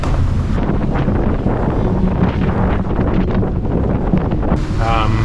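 Strong wind gusting to 35 knots buffets the microphone on a motor-sailing boat in a loud, continuous roar with rushing gusts, while water swishes faintly beneath and a voice speaks briefly near the end.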